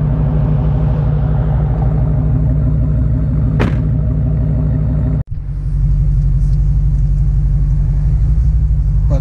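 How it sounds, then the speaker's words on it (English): A Dodge Hellcat's supercharged engine fitted with a BWoody intake, a loud, steady, deep rumble with a sharp mechanical click partway through and a brief dropout before the drone resumes. "the one other thing you can't beat with this Hellcat too is with the BWoody intake, is this supercharger just screams."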